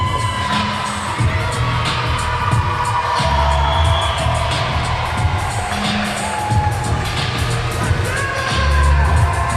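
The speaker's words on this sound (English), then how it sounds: "the crowd is going crazy inside this arena for the Brooklyn Dynasty" A wrestling arena crowd cheers and roars continuously at a tag team match, with loud whoops and shouts, thuds and a commentator's voice running over the din.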